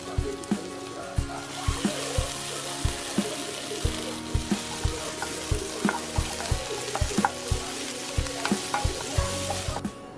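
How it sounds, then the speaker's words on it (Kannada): Onions and tomatoes fry with green chillies in a pan, a busy sizzle overlaid by regular, rhythmic spatula strokes and clinks against the pan, close and steady, with no speech. "ಈಗ ನೆಕ್ಸ್ಟು ನಾನು ಈರುಳ್ಳಿ ಮತ್ತು ಟೊಮೊಟೊ ಆ್ಯಡ್ ಮಾಡ್ಕೊಳ್ತೀನಿ"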